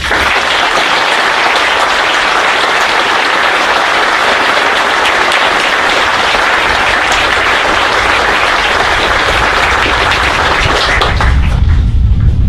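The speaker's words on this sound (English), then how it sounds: "please join me in a round of applause for our award recipients" At a Marine Corps officer candidate graduation ceremony, a large outdoor crowd applauds award recipients with loud, dense, continuous clapping that holds steady before a deep rumble swells at the very end.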